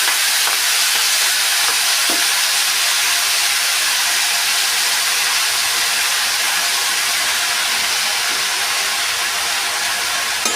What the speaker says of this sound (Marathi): आपण त्यामध्ये आता ही कांद्याची पात टाकून घेऊया